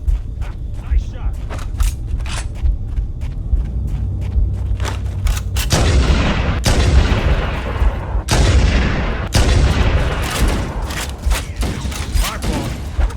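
Gunfire in the PC release of Halo: Combat Evolved (The Master Chief Collection): a fast run of loud, close shots with sharp bursts and booming impacts, continuing throughout over a low rumble, with brief talk in the background.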